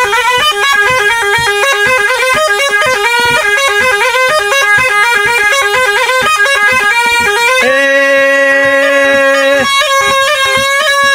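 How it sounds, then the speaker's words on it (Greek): Greek tsampouna bagpipe played loudly, a steady stream of shrill reedy melody over a continuous drone, with quick ornamented note changes and no pauses throughout. "Παίξε τσαμπούνα δυνατά"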